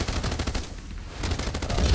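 Enemy cannon fire in the naval video game Age of Water, a heavy, slow-firing weapon, heard as dense booming bursts that fade in the middle and build loud again toward the end.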